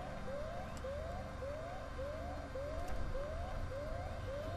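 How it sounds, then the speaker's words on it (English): Alarm sirens in the sci-fi game Alien: Isolation sound as a steady train of rising whooping tones roughly twice a second, moderately loud over a dense low mechanical drone. "Oh, why alarms?"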